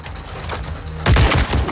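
Gunfire erupts in a Modern Warfare 2 campaign battle inside the House of Commons, a burst of loud, booming shots in quick succession after a brief stretch of quieter background sound.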